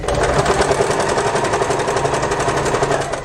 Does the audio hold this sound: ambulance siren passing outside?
no